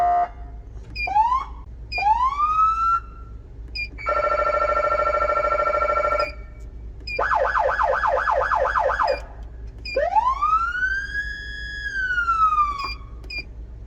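Siren of a fully equipped fire battalion Chevy Tahoe emergency vehicle cycling through several loud tones: rising wails, a steady horn-like blare, a rapid yelp and a long sweeping wail, separated by short gaps.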